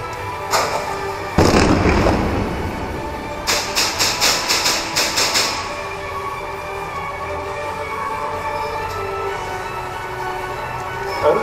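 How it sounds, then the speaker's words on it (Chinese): Gunfire during a police anti-terror drill with an armored vehicle: a lone sharp shot, then a heavy close blast, followed by a rapid volley of roughly eight cracking shots, fading into low rumbling background. "歹徒开枪，特勤人员随即还击，火力掩护"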